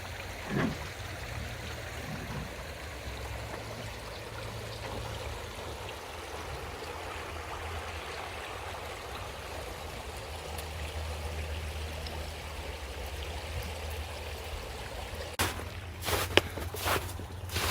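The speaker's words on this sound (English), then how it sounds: "I do love this creek, though." A creek runs steadily with soft flowing water heard at moderate distance, a continuous broadband wash with a few footsteps or rustles near the end.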